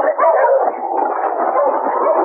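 Sled dogs bark and yelp continuously while pulling a sled through drifted snow in a forest, loud and close, an overlapping chorus of voices with no pause.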